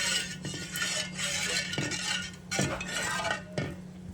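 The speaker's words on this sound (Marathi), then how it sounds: "मिक्स करून घेऊया" Salt stirred into warm water in a metal pot on a stove, a steady scraping swirl with light clinks of the spoon against the sides, close and continuous.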